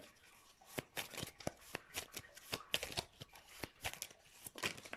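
Tarot cards being shuffled by hand, a quick run of soft riffling flicks and papery snaps, close and quiet, with no voice.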